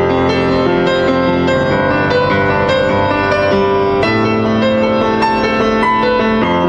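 A piano plays a continuous flowing passage of notes and chords, captured with a distant mid-side pair of ribbon microphones in a recording studio, full and steady with no voices.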